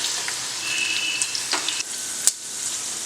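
Garlic and spices fry in hot oil for a tempering for Peshawari chicken curry, a steady close sizzle with occasional sharper pops and spatters, with no voices.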